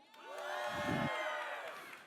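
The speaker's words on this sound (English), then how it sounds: "on the count of three, everyone's going to scream at the same time" A live workshop audience screams together on cue, a loud, sustained crowd roar of mixed voices that swells and holds for about two seconds.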